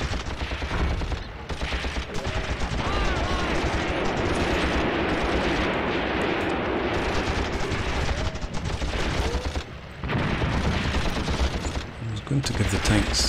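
Dense, continuous gunfire and machine-gun bursts in the WWII tank game Tank Warfare: Tunisia 1943 at Longstop Hill, loud and sustained with brief lulls, overlapping battle noise.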